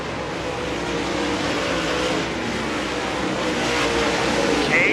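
Race cars roaring down the back straightaway at a dirt-track memorial main event, a steady loud engine drone from several cars that swells slightly toward the end, with no clear speech over it.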